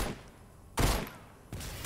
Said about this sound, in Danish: Der er folk, der skyder.